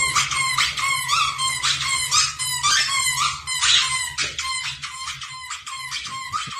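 Several dogs yipping, whining and squeaking in rapid high-pitched bursts, close and loud, with a continuous stream of excited vocalizations and a low steady hum beneath.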